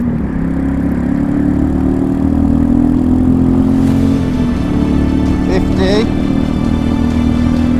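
A Royal Enfield Meteor 350 motorcycle's single-cylinder engine drones steadily on a motorway, pulling hard under loud wind rush with a brief rise partway through.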